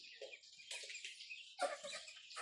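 Chickens on a small poultry farm, faint clucks and short chirping calls scattered over a couple of seconds, somewhat distant and quiet.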